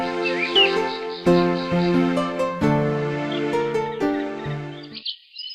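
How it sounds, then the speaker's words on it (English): Forest birds chirp and tweet in King's Quest III Redux, a steady layer of close, repeating calls over harmonic game music, with no speech. "Birds rest near birds' nests throughout the forest."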